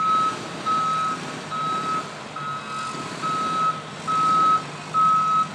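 Truck reversing alarm at a construction site: a steady series of loud, evenly spaced electronic beeps, about eight in total, over a low engine rumble and outdoor noise.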